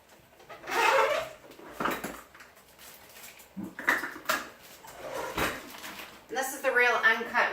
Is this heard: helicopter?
no